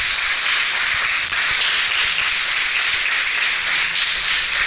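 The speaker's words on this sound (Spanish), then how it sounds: "Dale un aplauso al Señor." Church congregation clapping in praise, a dense, continuous wash of applause filling the whole stretch at steady loudness with no talk over it.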